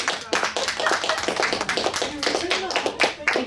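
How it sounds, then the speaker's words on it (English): An audience applauds four morning presenters in a burst of dense, steady clapping that lasts throughout, with voices mixed in. "Can we give our four presenters this morning a round of applause?"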